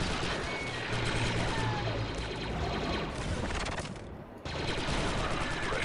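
Sustained automatic gunfire and blaster volleys in the Star Wars Republic Commando video game, a dense continuous fusillade that fills the clip with a brief dip near the end before resuming, with a voice faintly present.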